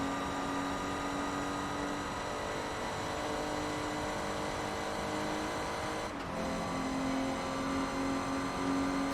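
A steady, high-pitched engine drone hums continuously with little variation, a racing car in Forza Motorsport 2 held at speed, with a brief dip partway through.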